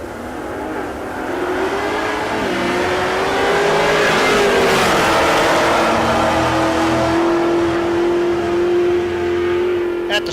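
LT-powered Camaro and a Mopar drag racing side by side at Tulsa Raceway Park, a loud engine roar that climbs in pitch with a brief shift, then holds a strong rising drone as the cars pull away.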